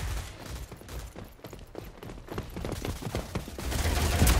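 Rapid gunfire crackles in the online shooter Rogue Company, a dense run of close shots and bursts that grows louder and more chaotic toward the end.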